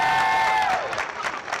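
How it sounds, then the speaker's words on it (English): A crowd at an outdoor school ribbon-cutting and community celebration claps and cheers for the school staff, a dense, steady round of applause that briefly overlaps a fading tonal sound. "How about we give all the staff in the school a big round of applause?"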